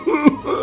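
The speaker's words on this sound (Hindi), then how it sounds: "तभी वहाँ एक बूढ़ा आदमी खांसते हुए आता है" An old man coughs once in a cartoon, a short, close, rough cough with a throat-clearing edge, heard alone.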